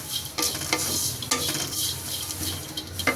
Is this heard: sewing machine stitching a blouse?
no